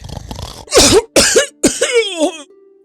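Voice actor imitating someone coughing awake after a snore: three loud rasping coughs in quick succession, the last trailing into a strained throaty groan, then quiet.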